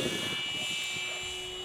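Durafly Goblin Racer, an 820mm EPO foam electric RC plane on its maiden flight, passing overhead with a steady, fairly loud high-pitched motor whine and propeller buzz that holds throughout.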